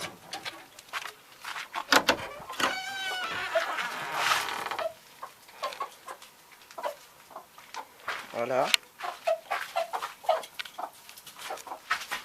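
Chickens clucking and a rooster calling in a coop, with creaky sounds and a person speaking briefly over the birds.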